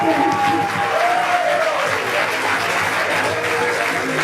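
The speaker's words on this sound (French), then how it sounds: "C'est le moment d'applaudir" Audience applause fills a school talent show hall, a steady dense wash of clapping from a large crowd with some cheering and a brief whistle near the start, continuing evenly throughout.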